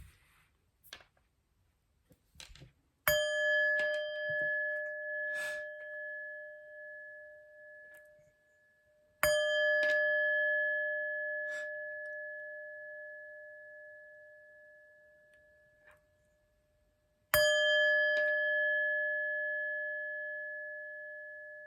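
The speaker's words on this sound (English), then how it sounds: "But first, let's chime." A chime rings three times at spaced intervals, each strike a clear bright tone that lingers and slowly fades, with a few faint taps and clicks between the strikes in a quiet room.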